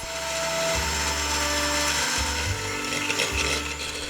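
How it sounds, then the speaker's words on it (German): An electric mixer beating butter in a bowl, a loud whirring motor hum with shifting pitch and clattering beaters, no voices. "Und für die Füllung geben wir Butter in eine Schüssel und schlagen sie wieder kräftig auf"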